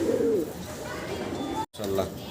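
A fancy pigeon coos nearby, a low throaty call at the start followed by fainter coos over a noisy background.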